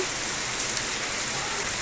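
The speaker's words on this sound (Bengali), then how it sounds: "ঝুল বারান্দায় বসে বসে এখন বৃষ্টি পড়া দেখছি" Steady rain falling outside a balcony, with a dense, even hiss of drops and no breaks, fairly loud and close, with no voices.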